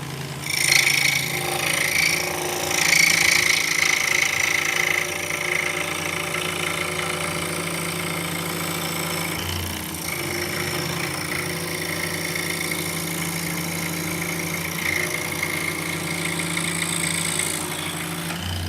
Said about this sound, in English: we're going to start out by cutting this 5/8 inch hard maple